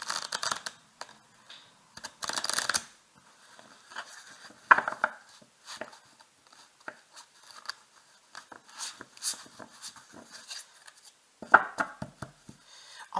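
Oracle cards shuffled by hand, giving soft, irregular papery riffles and taps in short bursts with brief pauses, close and fairly quiet, with no voices.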